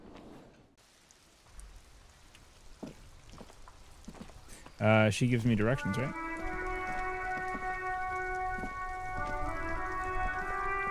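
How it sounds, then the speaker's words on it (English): Steady rain in the video game Disco Elysium patters softly throughout, partly masked by a swelling musical tone and a voice talking over it. "It's raining again."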